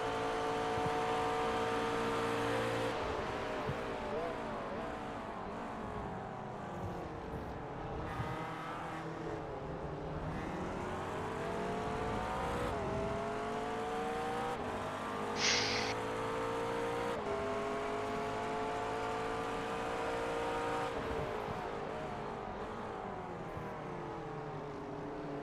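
McLaren GT3 race car engine at Spa in a racing video game, a loud, continuous whine that climbs through the revs, drops at each gear change and climbs again, heard alone throughout.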